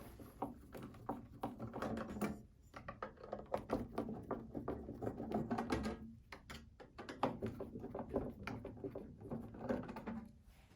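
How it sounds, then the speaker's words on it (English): Phillips screwdriver backing out the three screws on the outer case of a Zebra ZT400 label printer, giving close, faint irregular scrapes, clicks and small metallic rattles with short pauses between turns. "using a Phillips screwdriver, we're going to be removing the 3 screws on the outside of the case"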